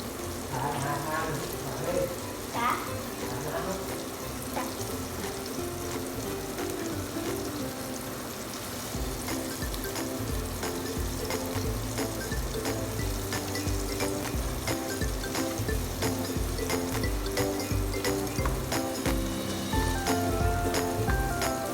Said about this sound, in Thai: เราก็จะเตรียมไปทอดกันเลยนะคะ